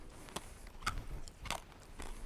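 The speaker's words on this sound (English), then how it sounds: "Let me chew this up first." Tic Tac mints chewed in the mouth, giving four or five separate crunching bites spaced irregularly, faint and close with no talk.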